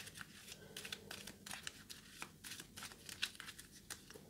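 Escalation cards for the Israeli Air Force Leader board game being shuffled by hand, a quick run of crisp papery riffles and flicks in an irregular rhythm, close and fairly quiet with no talk.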